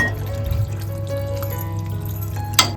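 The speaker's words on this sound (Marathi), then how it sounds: "थोडंसं पाणी घालून व्यवस्थित पुन्हा मिक्स करून घ्यायचं" Water poured into a pan of vala bean and snake gourd curry, a steady close trickle and splash lasting a few seconds with no talking.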